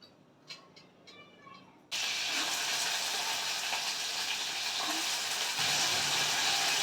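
Mild green chillies with salt dropped into hot oil: after a few quiet clinks, a sudden loud, steady sizzle erupts and keeps frying evenly at close range.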